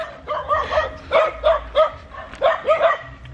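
A small dog barks repeatedly in short bursts, close and loud, the yaps coming in quick pairs and clusters with brief pauses between them, with faint whimpering tones.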